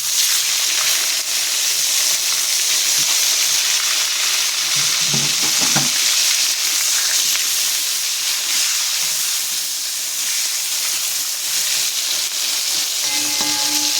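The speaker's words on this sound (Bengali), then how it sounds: "একদম ভালো করে ভেজে নেবো বেগুনটা" A large eggplant frying in hot oil gives a steady, loud hiss and sizzle throughout, with a few brief spatters and no voices.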